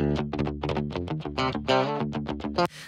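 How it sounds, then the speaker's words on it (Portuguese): An electric guitar with new strings and a well-set-up neck is recorded straight through a DI with no distortion. A quick run of clear plucked single notes rings bright and dry, ending in a short sustained note. "Esse é o som da guitarra sem nenhuma distorção."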